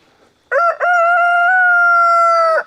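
A rooster on a homestead with chickens and geese lets out one loud, close, drawn-out cock-a-doodle-doo, starting with a brief clipped note and then holding a long ringing crow against an otherwise quiet background.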